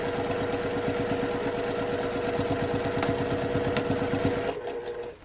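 A sewing machine runs steadily over the corners of a fabric bag, a loud, close, fast rhythmic whirring and clatter that slows and stops near the end.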